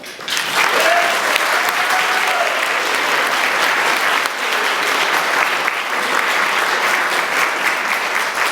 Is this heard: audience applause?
yes